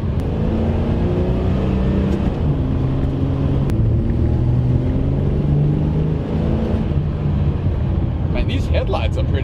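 A 1970 Dodge Challenger V8 pulling away from a standstill, heard from inside the cabin as a loud low engine rumble rising steadily in pitch as it gathers speed.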